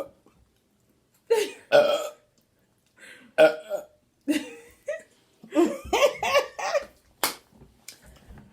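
Repeated loud, close burps during a burping challenge, with some long and some in quick clusters, separated by short silences and joined by a few giggles.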